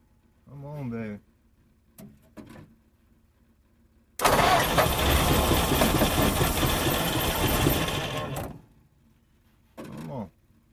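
An abandoned 1950 Mercury engine that sat for over 35 years cranks and catches, then runs loudly and roughly for about four seconds before dying, with short bursts of a voice before and after.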